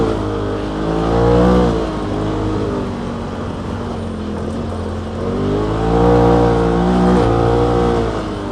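A Polaris RZR XP Turbo running a level 6 E85 tune climbs in low gear. The engine drones loudly and steadily, swelling into two rising revs as it pulls up the hill.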